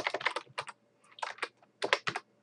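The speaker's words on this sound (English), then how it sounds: "You can see how I can just keep typing there." Rapid keystrokes on a computer keyboard come in quick clustered bursts with brief pauses between them, close and clear with no talking.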